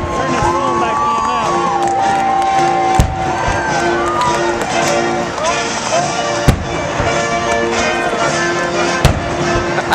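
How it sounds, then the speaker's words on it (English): Inauguration cannon salute booms sound at intervals of a few seconds, sharp distant thumps over a dense, noisy crowd with people talking and shouting nearby. "Look over there, they're shooting the cannons over there."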